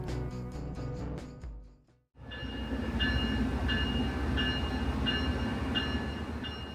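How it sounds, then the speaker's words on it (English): A Brightline passenger train rumbles steadily at close range while backing slowly through a maintenance shop, with a faint tone repeating at regular intervals above the low roar. "the train backed through the shop and over to the train wash"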